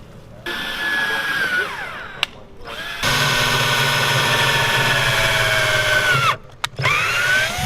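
A power drill whirs steadily in long, loud bursts while drilling holes in a boat hull, its pitch sagging as the bit bites, with brief pauses between runs.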